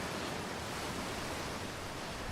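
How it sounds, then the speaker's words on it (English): Big waterfall in the video game Outer Wilds, a steady broadband roar of rushing water that holds even and unbroken throughout, fairly close and full, with no talk over it. "Here we got a big old waterfall."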